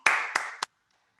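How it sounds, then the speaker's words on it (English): Three sharp claps from a small group, close and clear, as applause for a first-place high school prose winner at a literary arts festival, followed by silence. "Give a round of applause for Alexis Benitez."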